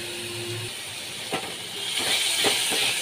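Sour yogurt mixed with cumin powder and Kashmiri chili powder poured into a hot pan for a rohu fish curry, giving a steady hissing sizzle with a few soft clicks and pops, growing a little louder toward the end.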